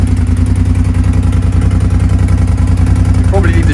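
A Suzuki SV650s motorcycle engine idles steadily and loudly up close, with an even, rapid throbbing pulse that holds throughout.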